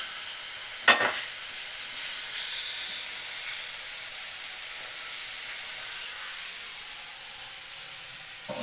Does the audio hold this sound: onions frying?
yes